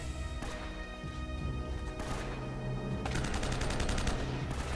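Repeated pistol shots and clattering gunfire from Uncharted: Drake's Fortune, a dense loud stretch of game combat with overlapping bangs and impacts, rapid volleys near the end.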